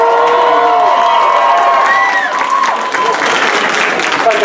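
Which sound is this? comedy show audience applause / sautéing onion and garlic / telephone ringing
comedy show audience applause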